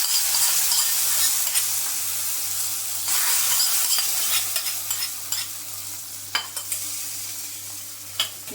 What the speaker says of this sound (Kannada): ಚೆನ್ನಾಗಿ ಕುದೀತಾ ಇದೆ ಮಿಶ್ರಣ ಇವಾಗ ಇದಕ್ಕೆ ಈ ಒಗ್ಗರಣೆ ಸೇರಿಸ್ತೀವಿ